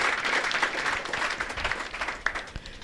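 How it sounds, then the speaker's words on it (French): An audience at a talk on literature and the arts in Burkina Faso claps for a university guest, a moderate round of applause that thins and fades toward the end. "je vous demande de l'applaudir."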